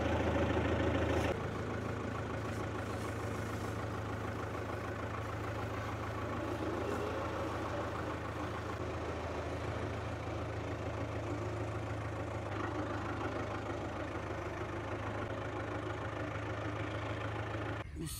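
Freshly serviced farm tractor engine idling nearby, a steady low chugging rumble that holds evenly throughout with no talk.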